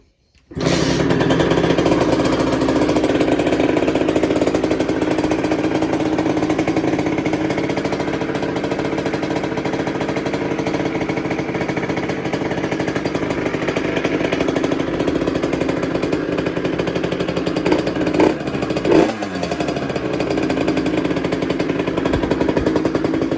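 Masai 70 moped engine with an Airsal kit, started on the choke and left idling: a loud, steady, buzzing two-stroke drone that holds throughout, with a brief flutter near the end.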